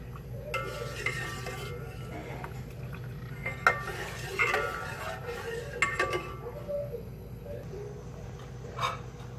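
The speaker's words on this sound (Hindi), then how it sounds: "5 मिनट हमें इसे मुसलसल चलाना है।" A spoon stirring rice in milk in a pot for kheer, soft scraping and occasional metallic clinks against the pot over a low steady simmer, with no talking.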